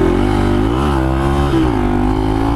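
A vehicle engine runs steadily and loud on a trail, its harmonic drone rising and dipping slightly as the revs shift, with no talk over it.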